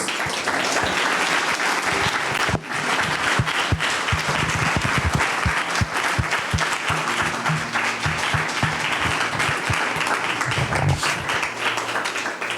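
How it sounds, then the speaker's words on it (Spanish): A church congregation at a Christmas service claps loudly and steadily for several seconds. The dense applause stays close and continuous throughout, with a brief dip partway through, and individual claps are sometimes audible in the mix. "Le damos un aplauso a Dios."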